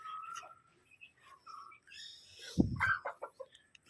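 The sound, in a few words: chickens clucking as they are let out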